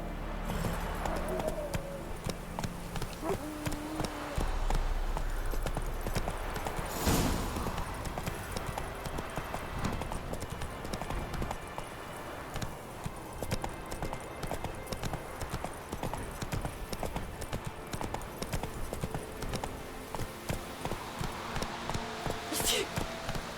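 Hooves of the horse Roach in a video game, a steady clip-clop running without a break under constant ambient sound and music, with a voice speaking over it.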